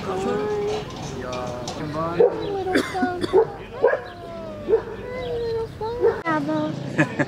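A small puppy yips and whimpers in short, high, scattered barks, close by, with soft voices and movement in the background.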